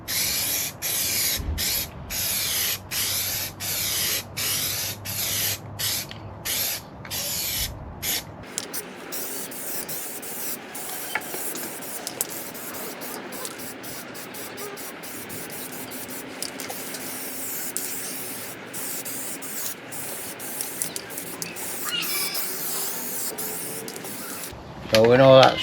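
Grey paint sprays onto the sill of a Ford Fiesta Mk2 in short repeated hissing bursts, followed by quieter rubbing and handling noises, with someone talking at times.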